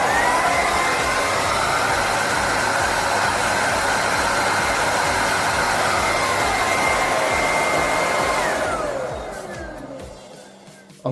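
A Bissell Icon 21V cordless, bagless stick vacuum cleaner runs with a steady, loud, high-pitched motor whine close by, then winds down as it is switched off near the end.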